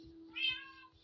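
A single short meow from a cat in Minecraft rises and falls over a faint steady tone and soft rhythmic background thumps, with no talking.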